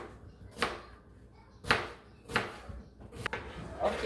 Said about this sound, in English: I'm going to chop the onions and make sure they are tiny, small pieces